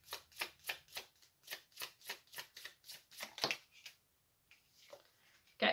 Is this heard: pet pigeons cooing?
no